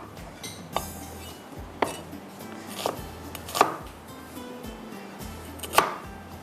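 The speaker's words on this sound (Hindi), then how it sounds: "ये प्याज है, ठीक है, इसको हम इस तरह से कट कर लेते हैं।" A knife chops onion and capsicum on a cutting board in a kitchen, giving sparse, sharp thuds spaced roughly a second apart over soft background clatter, with no talking.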